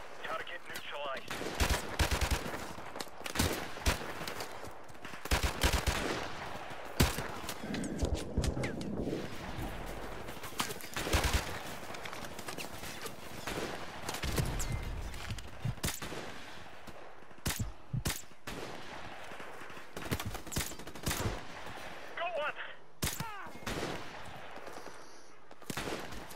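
Continuous gunfire in the Modern Warfare Remastered campaign: rapid, overlapping shots and bursts, some automatic, keep going for the whole stretch, with voices in the mix at moderate level.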